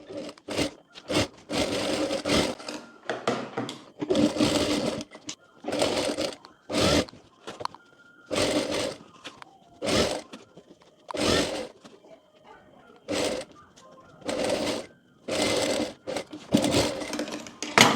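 A sewing machine stitches a fold into trouser fabric in a run of quick, loud bursts separated by short pauses, close up and with no talk.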